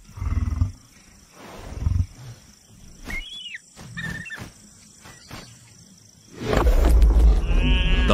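A desert lioness guarding a fresh kill during a drought gives deep, loud roars and growls close by, in bursts at the start and then a long, heavy roar near the end, with quieter gaps between them.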